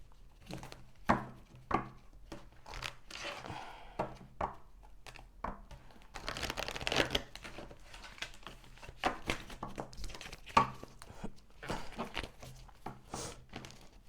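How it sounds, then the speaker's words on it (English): A stiff deck of reading cards being shuffled close by, giving a run of sharp, irregular papery slaps and riffles of varying loudness that continue steadily with brief gaps. "It's such a hard deck to shuffle."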